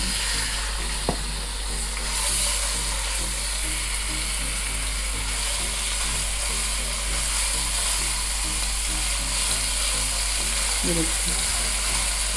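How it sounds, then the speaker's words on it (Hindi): Marinated boneless chicken frying in hot oil in a kadhai: a loud, continuous, crackling sizzle throughout, with occasional scrapes of a spoon stirring the pieces and a low steady hum underneath. "आप ये मैरिनेट किया हुआ चिकन इसमें भूनें अच्छे से"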